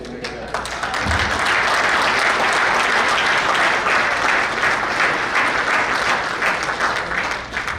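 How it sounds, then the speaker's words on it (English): Sustained applause from a banquet audience at an annual award night, a dense, steady wash of many hands clapping that swells quickly and holds loud throughout, with a faint voice briefly audible at the start. "So it's a big round of applause, Atif."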